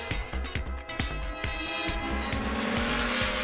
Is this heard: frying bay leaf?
no